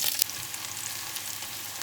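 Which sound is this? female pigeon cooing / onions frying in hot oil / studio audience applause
onions frying in hot oil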